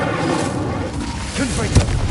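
Incendio fire spell cast in a Harry Potter video game, heard as a dense, roaring burst of magical fire with a sharp whoosh and low thump near the end, under a voice shouting the spell.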